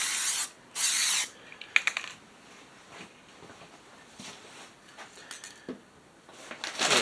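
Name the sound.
spray paint can spraying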